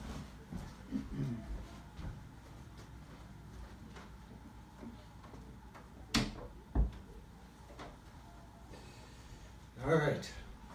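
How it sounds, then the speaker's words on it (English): A door is pushed shut indoors with a couple of soft thumps and a latch click partway through, then another muffled bump near the end, amid quiet room noise and faint speech. "I'm actually going to go shut the door"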